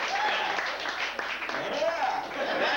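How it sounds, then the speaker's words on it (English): An audience at a stand-up comedy charity show claps and cheers in sustained applause, a dense wash of many hands throughout, with voices mixed in. "give yourselves a round of applause."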